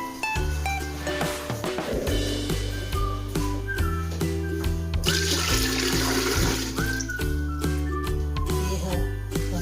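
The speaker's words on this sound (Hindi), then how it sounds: "ये हम चिकन उबालने के लिए पानी डालेंगे।" Water pours into a cooking pot on a lit stove before chicken is boiled for soup, a rushing splash partly covered by melodic background music.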